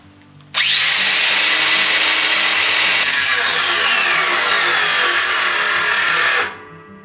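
A Yato 18V 125mm cordless angle grinder, model YT-82827, cutting under full pressure: a loud, sustained high whine that starts abruptly, holds for several seconds with a slight drop in pitch under load, then cuts off.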